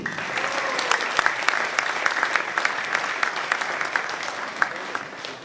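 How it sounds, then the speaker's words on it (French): A crowd applauds a table tennis player being introduced at a French club match, steady dense clapping throughout with a few louder individual claps standing out. "Merci d'applaudir"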